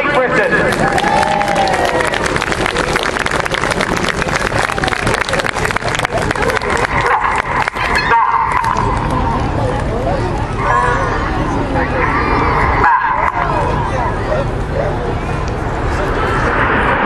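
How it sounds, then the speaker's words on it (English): An airshow crowd at the Sunderland International Airshow 2012 applauds and cheers for the Red Arrows, a continuous loud wash of clapping and crowd noise beneath an announcer talking over a public address system. "please now have a big round of applause and cheer for Her Majesty the Queen"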